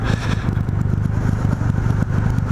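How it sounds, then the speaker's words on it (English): A 2020 Triumph Rocket 3 R motorcycle engine rumbles steadily up close, with faint crackling pops from the exhaust mixed into the low throb. "It doesn't have much engine braking, although you can hear it popping"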